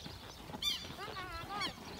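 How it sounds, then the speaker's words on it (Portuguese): A horse on a Brazilian farm, heard close, gives short neighing whinnies twice over low farmyard background noise. "Freia o cavalo."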